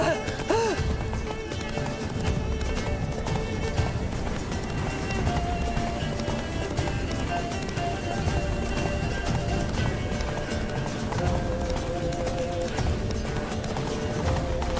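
Roach the horse gallops in The Witcher 3, a steady, rhythmic clip-clop of hooves running continuously under background game sound, with a brief whinny early on.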